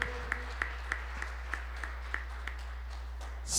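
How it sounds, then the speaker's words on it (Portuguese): A church congregation claps along in a slow, steady rhythm of about a dozen evenly spaced beats, the claps moderately loud over a low hum, with no talking. "Vamos aplaudir Deus para a vida dela, gente?"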